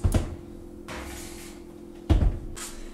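An oven door shuts after a pie crust for possum pie goes in, with two solid thumps, one at the start and another about two seconds later, over a low steady oven hum in a home kitchen.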